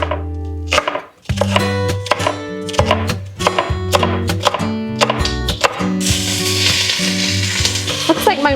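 Knife chopping bell peppers on a board with light background music, then a loud sizzle of the peppers hitting a hot pan, hissing steadily to the end.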